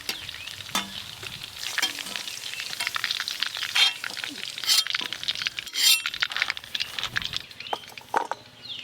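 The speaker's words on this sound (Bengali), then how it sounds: "চিকেনের পিসগুলো বেশ সুন্দর ভাজা ভাজা হয়েছে" Chicken pieces frying in hot oil, sizzling steadily while they are stirred and turned, with repeated sharp clinks and scrapes of a utensil against the pan throughout.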